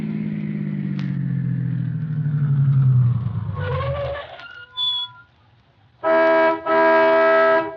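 Radio drama sound effect from a 1942 suspense broadcast of a car pulling into a gas station: a loud engine rumble winds down and stops, then a bell dings and a horn-like tone sounds twice.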